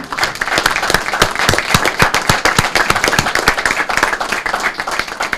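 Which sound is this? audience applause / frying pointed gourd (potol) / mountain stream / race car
audience applause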